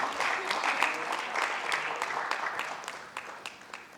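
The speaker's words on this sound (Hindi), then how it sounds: "एक बार जोरदार तालियां श्रुति कीर्ति बारिक जी के लिए" Audience applause for the director after a stage performance of the play Chand Ashok, a sustained wash of many hands clapping, loud at first and gradually thinning out over four seconds.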